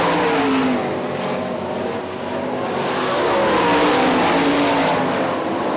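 Sprint race cars roaring around the oval at Hartford Speedway, a loud continuous engine drone with rising and falling revs as the pack passes close by.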